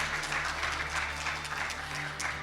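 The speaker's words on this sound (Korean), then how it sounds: "큰 박수 부탁드립니다" Applause from a lecture audience at a unification-education colloquium, a steady, even wash of clapping held at a moderate distance over a low hum from the hall.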